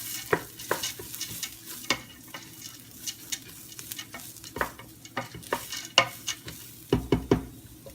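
Onions and lentils cook in olive oil in a pot over high heat, with a steady low sizzle and the repeated scrape and knock of a spoon stirring against the pot.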